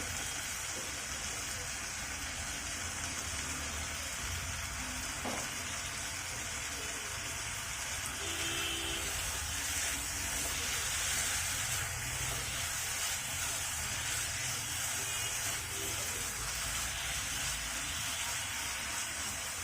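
Chicken snacks fry in a pan with lemon juice, giving a steady, close, hissing sizzle that runs on evenly without a break.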